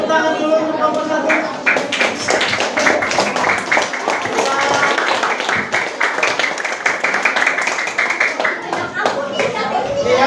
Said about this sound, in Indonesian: kita beri tepuk tangan dulu untuk kelompok 1